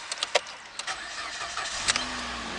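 A Mitsubishi CJ Lancer with the 2.0-litre 4B11 engine, 66,335 km, starts up: quick cranking clatter, then the engine catches and settles into a steady idle, close and loud, with no voices.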